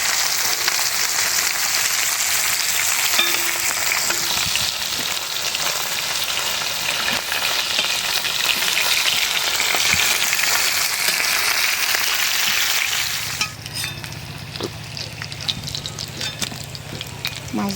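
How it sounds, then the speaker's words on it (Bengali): Fish fries in oil over a low flame, giving a steady, dense sizzle that runs for most of the stretch before quieting and shifting near the end. "মাছগুলি একেবারে নিবা চুলায় ভাজলাম"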